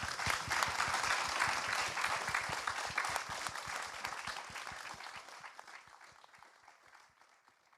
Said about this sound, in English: another round of applauses for them